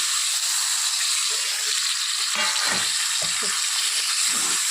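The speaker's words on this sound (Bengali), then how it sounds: "মশলা ভাজা হয়ে গেছে এখন আমি এর মধ্যে দিয়ে দেব ভেজে রাখা আলু আর ঝিঙে" Potatoes and ridge gourd frying in a pan of fried spices give a loud, steady sizzle and hiss throughout, with a few faint stirring scrapes near the end.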